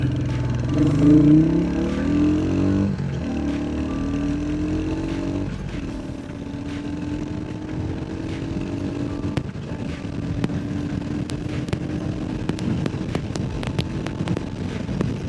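A Hunter motorcycle speeds up hard on a test ride toward 100, its loud engine pitch climbing through the gears, close and steady, with wind rushing over it and no talk.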